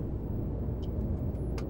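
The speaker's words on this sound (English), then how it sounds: "I can't stop the car." A car rolls along with a steady, low engine and road rumble that holds evenly throughout, with a few faint high clicks and ticks over it and no voices.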